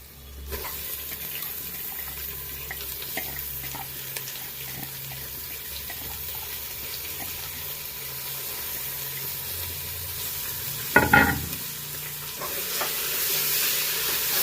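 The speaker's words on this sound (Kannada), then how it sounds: "ಜಸ್ಟ್ 2 ನಿಮಿಷ ಆಯಿಲಲ್ಲಿ ಬಾರಿಸ್ಕೊಂಡ್ಬಿಡೋಣ." Spinach (palak) stirred and frying in oil for a dal dish, a steady soft sizzle with scraping stir strokes throughout and a brief louder clatter near the end, no talking.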